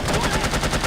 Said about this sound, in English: This guy goes down on the last bullet.